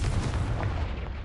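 A Confringo blasting spell goes off in Hogwarts Legacy, a dense low boom rolling continuously through the whole short stretch with a crackling burst layered on top.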